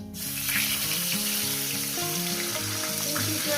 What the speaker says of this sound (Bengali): মাছগুলো আমার ভাজা হয়ে গেছে মাছগুলো আমি তুলে নিলাম আর এই মাছটা আমি দিয়ে দিলাম